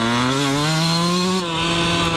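A two-stroke engine revs loud and close, a buzzing harmonic drone whose pitch climbs steadily and then eases slightly, with no talking.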